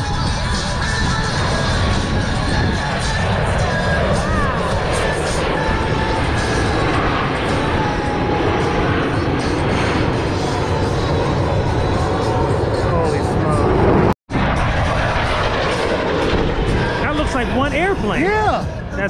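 Jet aircraft in a four-ship formation flying an echelon pass at an Atlantic City, New Jersey airshow, a loud continuous roar lasting the whole span with one brief dropout near the end.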